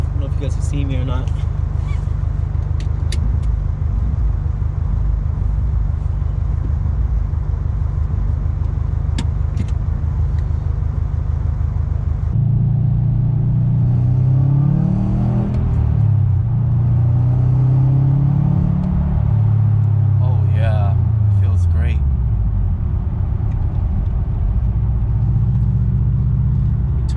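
A 2019 Subaru STI Limited driving, with a steady loud low engine drone throughout that shifts in pitch partway, as revs rise and fall, heard from inside the cabin.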